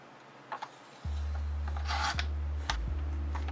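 Paper scrapbook tag being trimmed by hand, with short rasping cuts and rubs close up against a steady low hum.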